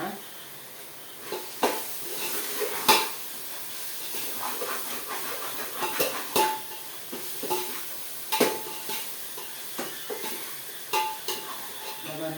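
Vegetables sautéing in a hot pan, a steady sizzle and hiss with occasional spoon scrapes and stirring clatters, close and continuous, with no talk over it.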